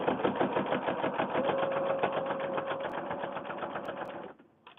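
A sewing machine stitching around the edge of fabric for a fabric book runs in a steady fast rhythmic chatter for about four seconds, close and even, then stops abruptly.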